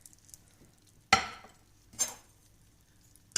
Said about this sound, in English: I'll stir the milk till it gets into the boiling point